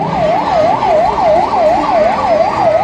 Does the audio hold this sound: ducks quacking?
no